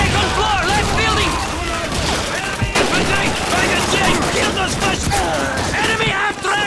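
MG42 machine gun fire in the Call of Duty 2 Stalingrad battle: loud, dense, continuous bursts layered with other gunfire and battle din, no speech.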